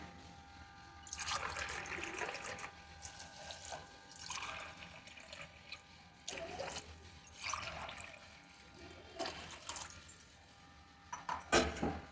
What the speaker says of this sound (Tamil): இந்த கிளாஸில் ஒரு மூணு கிளாஸ் தண்ணி எடுத்துக்கிறேன்